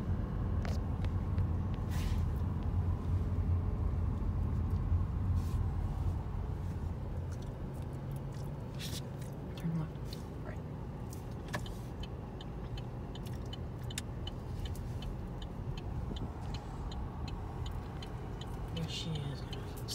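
Inside a car driving slowly past a parked Nissan GT-R, a steady low engine and tyre rumble carries on throughout, dotted with occasional small ticks and clicks.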